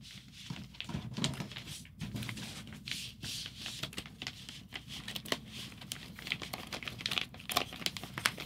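Stiff plastic vinyl record sleeve being handled and creased at close range, giving a steady run of crinkling and crackling with sharper snaps scattered throughout, and no talk.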